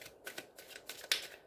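A deck of affirmation cards being shuffled by hand, several quick papery riffles and flicks in a short burst with a sharp card snap near the end, close and fairly quiet with no voices.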